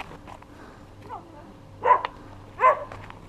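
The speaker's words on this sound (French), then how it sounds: "Le chien, l'un des chiens." Farm dog gives two sharp, close barks a little apart, after faint yips, with quiet farmyard background.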